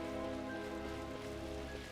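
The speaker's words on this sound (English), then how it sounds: "It's weird that it's raining here" Rain falls steadily on a mountain path in a video game, a soft even patter under a sustained musical score, with no talking.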